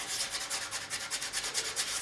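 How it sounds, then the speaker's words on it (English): Guitar fret edges are sanded with 600-grit paper in quick back-and-forth strokes, a steady rhythmic hissing rub heard up close and alone. "Like I say, this one's just for doing the beveling with 600 grit."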